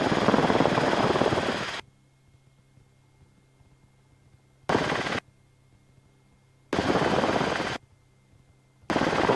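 A Rotorway helicopter descending on a training flight gives dense rotor and engine roar in abrupt bursts that cut off sharply, leaving near-silence between them, as if heard through a switched intercom.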